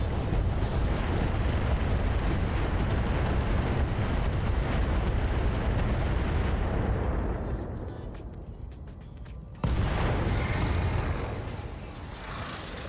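A barrage of 120 micro missiles slams into a breach in the Roguetech mech game, a loud continuous roar of rumbling explosions that thins out, then a sharp renewed burst trailing into fading rumble.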